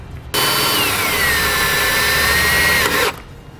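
A power drill drives self-tapping tech screws into thick metal on a 2018 Jeep, running as one loud, steady whine for about three seconds close up, its pitch dipping slightly as the screw bites, then stopping abruptly.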